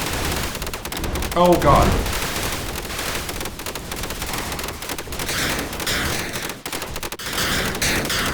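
Rapid gunfire from a spider-bot deployer weapon in the game Zombie Party crackles in dense automatic bursts with booms, under a player's brief exclamation.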